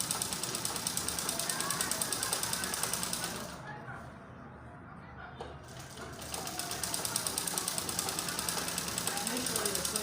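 A treadle-pedal sewing machine stitches in a fast, steady mechanical clatter that pauses briefly mid-way and then resumes at the same rapid rhythm.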